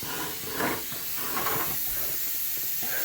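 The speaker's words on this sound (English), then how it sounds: "So I'm just spraying the pan with some butter." A continuous close hiss of butter spray onto a cake pan runs throughout, with slight pulses in intensity and no talking.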